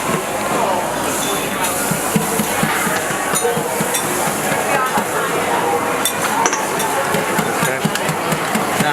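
Waffle batter being mixed in a bowl, with steady rapid clinking and scraping of a utensil against the bowl running throughout, loud and close, while a person talks over it.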